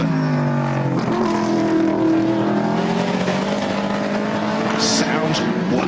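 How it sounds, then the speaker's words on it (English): A ProDrive race car, number 97, accelerates hard up the course at the Goodwood Festival of Speed 2016. Its loud, close engine note rises steadily as it pulls away, with a commentator speaking over it. "a great sound emanating from the back of that car"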